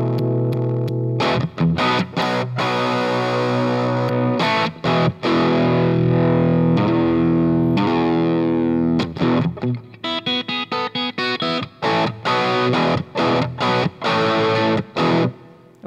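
Electric guitar through a vintage 1965 Marshall JTM45 amp plays loud crunchy distorted chords, first held and ringing, then clipped into short choppy stabs.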